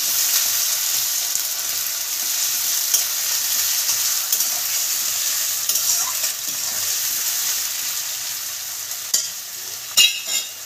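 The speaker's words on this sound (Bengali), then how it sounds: "ওই পেঁয়াজটা দিয়ে দিলাম, 3টে পেঁয়াজ আছে, মিডিয়াম সাইজের 3টে পেঁয়াজ" Onions, three medium ones, sizzling in hot oil with cardamom and bay leaf for a Bengali chicken kosha, a steady close frying hiss with a few stirring scrapes near the end.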